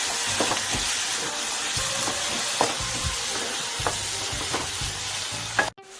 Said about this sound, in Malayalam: ഇനി നന്നായിട്ട് ഇതിൻ്റെ പച്ചമണം മാറുന്ന വരെ ഒന്ന് മിക്സ് ചെയ്തെടുക്കാം